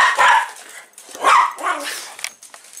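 A pet dog gives a few close, loud barks and yips in separate bursts, with short pauses between them, in a quiet room.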